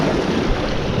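Winter sea waves splash against the shore while float fishing for garfish, a dense close wash of water and wind noise with no talk.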